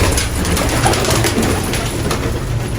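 Pigeons coo softly and repeatedly over a steady low background rumble, with no voices present.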